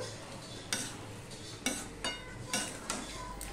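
Fish head and cabbage with sugar and chopped coriander stirred in a pan, a utensil scraping and clinking against the metal in several distinct strokes over a faint sizzle.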